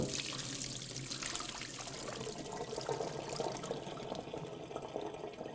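Cold water pours and splashes steadily into a sink as it is drained from a pot of boiled eggs, a continuous trickling gush close by with no voices.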